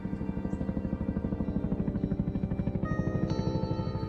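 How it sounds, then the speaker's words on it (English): A news helicopter circles overhead in an audio drama scene, its rotor thumping in a steady rapid chop that stays loud and constant throughout, with a faint rising whine joining near the end. "The only sound that could be heard was the news helicopter up above."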